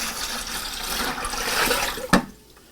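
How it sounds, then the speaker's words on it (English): Cooled turkey brine dumped into a briner bucket of chilled water, a steady rushing pour and splash that swells, ends with a sharp slosh, then goes quiet. "So now I've let my brine cool down to room temperature, and I'm going to dump this"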